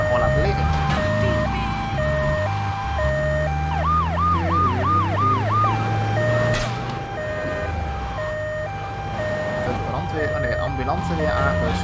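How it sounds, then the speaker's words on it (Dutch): An ambulance siren wails and yelps in Grand Theft Auto III, loud and close, with a rapid warbling stretch in the middle, layered over game music and other traffic sounds while someone talks throughout. "Ambulance weer aangestuurd"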